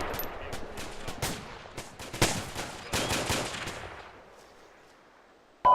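Gunfire in a military video game: a series of sharp cracking shots and bursts of varying loudness in the first few seconds, tapering into a quieter fading tail before an abrupt loud click at the very end.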